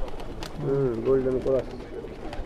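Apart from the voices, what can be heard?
pigeons cooing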